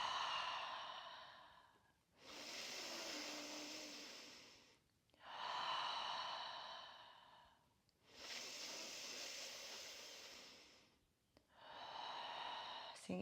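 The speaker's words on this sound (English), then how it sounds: "4 breaths again" Slow, deep breathing during a vinyasa yoga flow: five long, even airy breaths in and out, each lasting two to three seconds, close and soft, separated by short quiet pauses.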